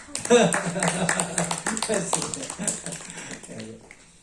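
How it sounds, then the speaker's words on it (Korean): A seminar audience claps in a burst of sharp, overlapping hand claps that thin out and fade over a few seconds, with voices talking over them. "박수 한번 쳐주세요"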